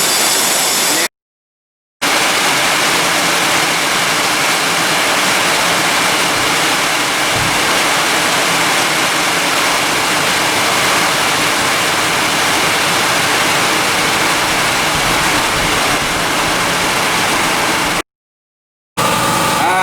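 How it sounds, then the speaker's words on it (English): A semi trailer's brake system being filled by an air compressor through an adapter: a loud, steady rushing hiss of air running almost unbroken, with two brief gaps of silence. "Put the air compressor. Let it start filling with air."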